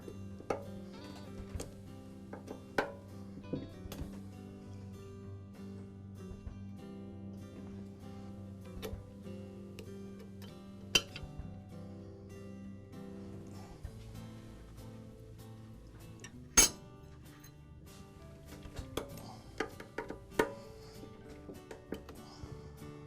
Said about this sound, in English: now I'll go ahead and just give a final tightening on all these screws